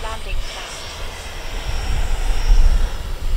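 A Freewing Yak 130 electric ducted fan model jet passes close by with gear down, its whining fan rising to a loud rushing roar, while a voice talks over it.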